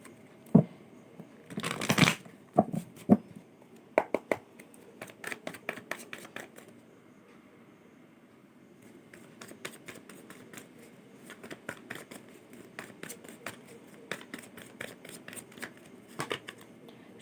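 Tarot cards shuffled by hand in quiet bursts of soft riffling and flicking, with a louder burst of handling early on and scattered sharp card taps and slaps throughout.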